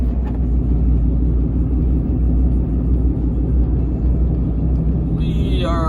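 Steady low road rumble and engine drone inside a car driving a highway through Dayton, Nevada, continuous and fairly loud, with a brief brighter whine near the end.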